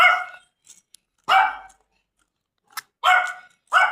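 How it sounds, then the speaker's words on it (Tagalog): A dog barks four times at close range, sharp and loud, with short quiet gaps and a couple of small yips between. "Ito yung aso."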